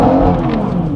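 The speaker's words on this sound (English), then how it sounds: "Oh, that was a burnout." BMW M140i doing a burnout, its engine a loud, close, sustained roar held under heavy load for a brief moment.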